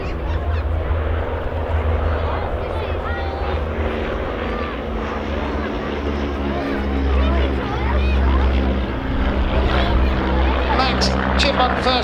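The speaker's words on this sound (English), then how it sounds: "Dan Griffith is our pilot on the DH-90." A de Havilland DH-90 Dragonfly flies in formation at a Scottish airshow, its engine drone a steady low rumble that swells and fades over the length of the clip, with continuous talk over the top.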